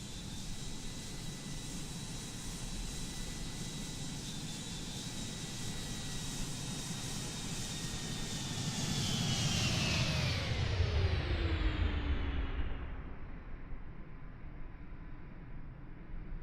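The Inibuilds A310 airliner's engines in Microsoft Flight Simulator 2020 drone with a steady deep rumble and high whine, swelling slightly louder before the pitch sweeps downward and the high end fades, leaving a lower roar, with no talking.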